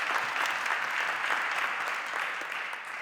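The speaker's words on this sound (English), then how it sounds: "So can we have a round of applause for Sharon?" A room full of people at a menopause information and support evening breaks into steady, even applause that carries on for several seconds and dies away slightly at the end.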